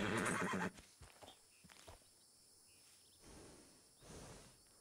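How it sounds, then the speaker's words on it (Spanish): Horse rolling on the ground in Red Dead Redemption 2: a loud burst of snorting and scuffling opens, then scattered thuds and shuffles continue faintly over quiet outdoor ambience with insects. "que sigue un caballo revolcándose ahí"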